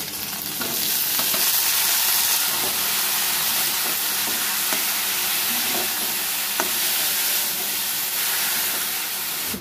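Onions and jolokia chillies fry in a pan, giving a steady close-up sizzle and hiss with occasional light stirring clicks. No one talks.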